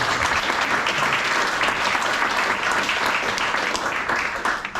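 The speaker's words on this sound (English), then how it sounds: "And so just big applause to Uri," Attendees at a GraphQL meetup applaud the organizer Uri, a full, even burst of clapping from a crowd that stays strong for a few seconds and eases slightly at the close.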